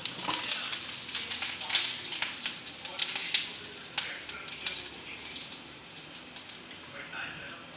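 Tempering spices sizzle and crackle steadily in hot oil, with sharp pops scattered through the hiss, fading slightly toward the end.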